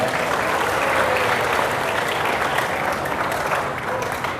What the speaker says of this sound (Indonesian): TPM, boleh tepuk tangan buat TPM.